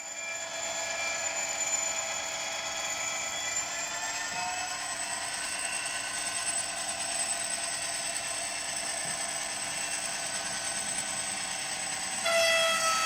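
Bachmann class 57 model locomotive 57009, OO scale, running steadily on a test track, giving a continuous motor whine with a sustained buzzing hum at even loudness and a slight change near the end.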